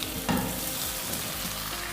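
Cut methi muthiya dropped into a hot tempering in a pan over a medium flame, giving a loud, steady sizzle with a burst as the pieces hit the oil, and continuing hiss and stirring noise throughout.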